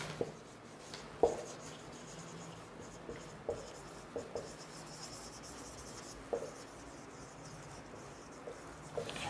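Pen or marker scratching faintly on a writing surface during a Class 12 physics lesson on electric flux, with a few sharper taps against a low room hiss and no talking.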